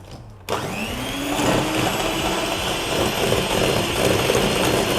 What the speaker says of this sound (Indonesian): langsung aja akan gue kocok sampai dia itu lumayan mengembang